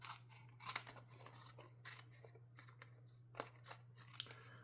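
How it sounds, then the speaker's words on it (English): Scissors snipping off a paper craft tag, several crisp, close cuts and rustles scattered irregularly over a low steady hum, with no talking. "I'm gonna snip this off now so we can see what we've got."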